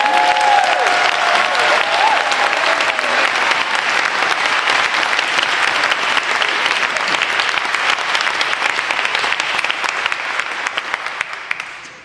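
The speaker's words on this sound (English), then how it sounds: "So let's hear a round of applause for them." An audience applauds speakers at an evening event, a loud, dense, sustained clapping that runs unbroken for about twelve seconds before tapering at the end.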